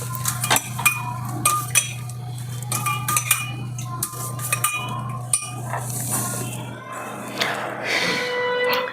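A spoon clinking repeatedly against a glass or steel cup while boiled milk and sugar are stirred into a herbal decoction, with irregular bright taps over a low steady hum.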